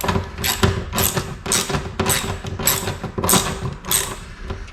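A 1/2 inch socket on a wrench snugs bolts on a Curtis canopy fitted to a Massey Ferguson GC1725MB sub-compact tractor, giving a close, rhythmic series of ratcheting clicks and scrapes, about eight strokes with no talk.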